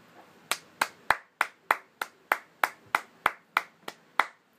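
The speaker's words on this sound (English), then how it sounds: "I gotta give you a round of applause" One person claps steadily and alone, about fourteen sharp, evenly spaced claps at a slow, deliberate pace, close and crisp against near silence.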